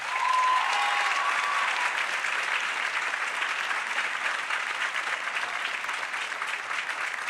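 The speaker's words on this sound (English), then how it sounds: "Let us have a round of applause for all of them here tonight." A graduation audience at John J. Duggan Academy's 2023 ceremony breaks into dense, sustained applause, loud and steady throughout with no voices standing out.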